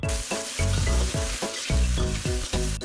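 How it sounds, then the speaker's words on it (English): Chili paste sizzling loudly in hot oil in a pan while being stirred, with rhythmic scraping strokes over a continuous close fry, no voices. "Give it a quick stir."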